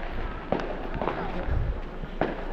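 Firecrackers and fireworks go off outdoors during Chinese New Year celebrations, a dense continuous crackle with several sharper pops punctuating it, loud and sustained, with faint voices mixed in.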